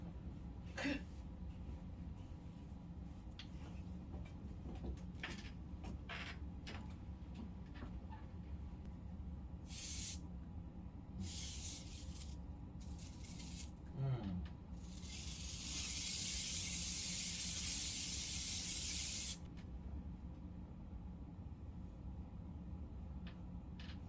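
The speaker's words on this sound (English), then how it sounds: "So I'm just going to start spray adhesiving it up there" Spray adhesive hissing from an aerosol can onto wall panels during a dark and moody bedroom makeover, with several short bursts and then one longer steady spray, alongside faint handling noises and low room hum.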